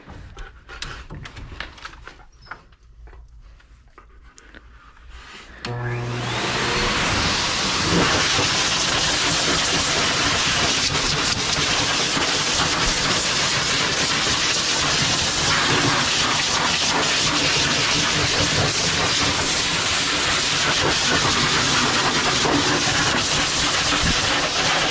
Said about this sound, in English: Not only does it dry him, but it will help push the excess hair that's left out of his coat.